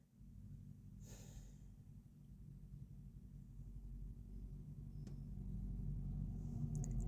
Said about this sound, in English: Here comes a truck, y'all. Sorry if you can hear this.